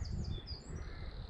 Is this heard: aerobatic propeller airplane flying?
no